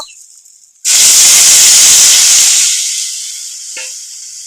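Water is poured into a hot pan of sour greens with salt and turmeric, and a sudden loud hiss bursts out up close, then slowly fades into a softer steady sizzle.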